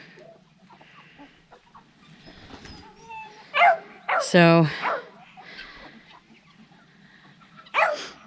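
Guinea fowl, ducks and chickens mingle in a farmyard, with scattered calls and squawks building to a loud, raspy burst of honking cries, then another sharp call near the end over faint background noise.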